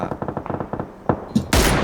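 Rapid automatic gunfire from the video game PUBG rattles in quick bursts, then a few sharp single shots and a loud blast at the end, close and prominent.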